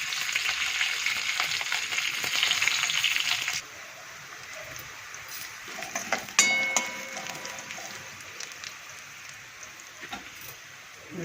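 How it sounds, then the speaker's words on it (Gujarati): Cumin, garlic, curry leaves and green chilies frying in hot oil, a bright crackling sizzle that is loud at first, then settles into a softer, steady hiss with a few sharp spits. "હવે અંદર નાખી દઈએ આપણે જીરું, લસણ, મીઠી લીમડી,"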